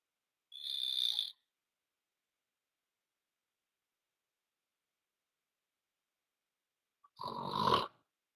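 A person snoring, heard as two separate loud, raspy snores several seconds apart with silence between them, close and alone.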